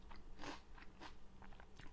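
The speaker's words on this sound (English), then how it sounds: "I even got a sugar snap pea, which is sweet and crunchy, all in one bite." Several crisp crunching bites of salad with sugar snap peas and creamy tahini dressing, with chewing, loud and close, in quick bursts with brief pauses between them.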